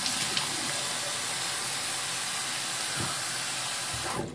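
Tap water running steadily into a sink while a face is rinsed, a loud continuous close hiss with a few faint splashes before it cuts off.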